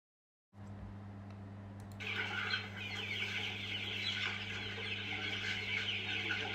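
King chickens cluck and chatter on a farm, a dense flock of overlapping calls that grows louder and busier partway through over a steady low hum.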